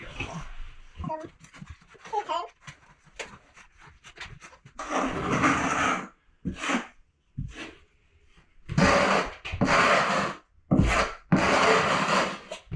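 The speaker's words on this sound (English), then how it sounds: "You can press one into the corner and spread out your Kerdi band with the other one." A trowel or knife scrapes and smears thinset mortar under Kerdi band in a bathroom waterproofing job, making loud rasping strokes in several bursts separated by pauses, with a voice talking in between.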